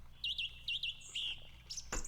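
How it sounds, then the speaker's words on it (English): Birds chirp in short, bright trills in the video game The House in Fata Morgana, a few repeated phrases over a quiet background, ending with a sharper burst. "Ooh, da birds."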